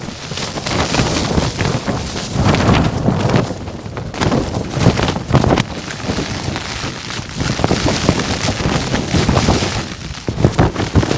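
Strong wind during a winter snowstorm buffets a small solo tent, making a loud, continuous roar and flapping with gusty surges throughout, close up against the fabric.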